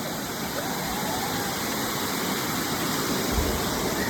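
A waterfall at Kalu pours in a steady, broadband roar that fills the whole clip, close and constant, with no pauses or breaks in the rushing water.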